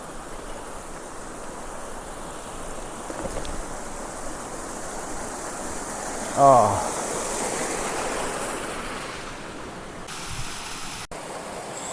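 Constant rushing water of a waterfall dropping from high above, on the road to Hunli near Anini, India, roars close by, with a brief voice and a couple of short knocks partway through.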